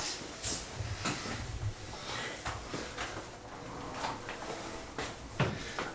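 Small drawers under a hotel bathroom counter sliding open and shut, giving several soft knocks and scrapes at close range over a quiet room hiss.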